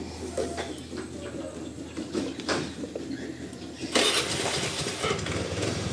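A used Honda Vario 125 motorcycle being started, a low steady engine hum under clattering handling noises, with a louder burst partway through, nearby and without speech.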